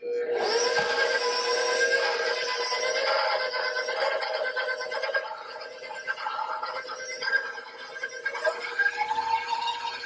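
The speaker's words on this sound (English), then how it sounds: "So we're gonna whip this until it's color and fluffy for about 5 minutes." An electric mixer whipping butter in a bowl for a coconut cake, a steady whirring motor drone that holds throughout with slight shifts in pitch, close and continuous with no talking.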